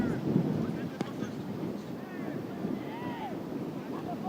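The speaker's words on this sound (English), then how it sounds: "the gusts seem to have subsided for a little bit, but it's still blowing pretty good" Gusty wind blows across an outdoor high school boys' soccer field, buffeting the microphone with a steady low rumble and roar, with faint distant voices and whistles mixed in.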